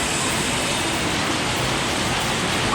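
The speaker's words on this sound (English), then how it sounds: "today it was a really big rain" Heavy rain pouring down, a dense, constant hiss of water on surfaces filling the whole span with no pauses and no voices.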